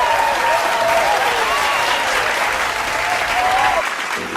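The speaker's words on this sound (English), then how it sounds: "a little round of applause for our new guest, Raymond Burtnick, man." A studio crowd gives steady, full applause to a new podcast guest, with a few faint voices calling out over the clapping before it thins out at the end.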